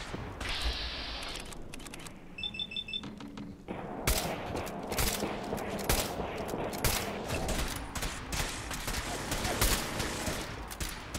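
Gunfire in the video game Fallout 4 during a battle at Sedgwick Hall, with a hunting rifle among the weapons: repeated sharp shots crackle over a busy, noisy background, near and loud, with no one talking.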